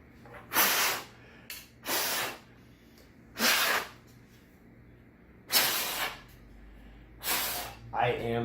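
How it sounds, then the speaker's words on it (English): Repeated bursts of compressed air from a spray can clean out the inside of a gaming PC found in a closet, five or six short hissing blasts a couple of seconds apart, close and loud, with a faint low hum underneath. "I am the spray can of air."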